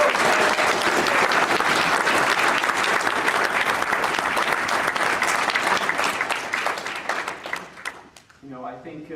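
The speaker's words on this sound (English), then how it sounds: "I want to start by giving another huge round of applause to Orry" Loud, dense applause from the audience at a Scrabble championship final, sustained for several seconds before thinning and tapering off, with a voice beginning to speak as it fades.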